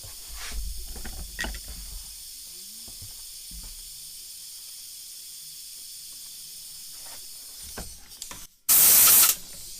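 Break-Free lubricant bursts from an aerosol can in a short, loud, close hiss lasting under a second, following a stretch of quiet handling noises during a shotgun bead installation.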